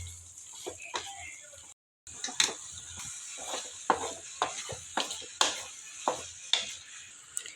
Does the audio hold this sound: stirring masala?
yes